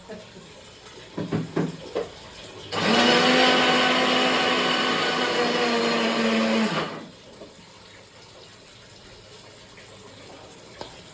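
A mixer grinder whirring as it grinds curry leaf chili powder, one loud steady burst of about four seconds that stops abruptly, with quieter handling clatter before and after.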